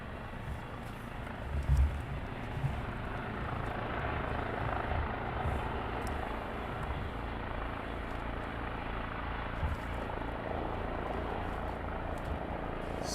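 Training helicopter at RAF Shawbury making a skid landing, steady rotor and engine roar at moderate distance, continuous and even with a brief louder thump early on, no speech.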